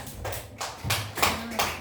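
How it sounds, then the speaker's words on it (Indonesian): A classroom of children claps for a classmate, giving a few loose bursts of hand claps at uneven intervals, fairly close but not loud. "Tepuk tangan untuk Kak kelas"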